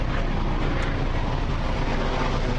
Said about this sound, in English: And there's an odd-looking helicopter going overhead.